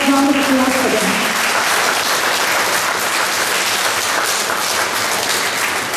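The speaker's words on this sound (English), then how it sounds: "A very big round of applause for them." A large audience applauds a school resource team at a primary-years exhibition, a dense, steady wash of clapping that fills the whole stretch, with a voice briefly audible at the very start.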